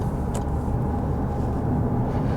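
Jaguar F-Type engine rumbling steadily up close, a dense low drone filling the whole moment at constant loudness, with no voices over it.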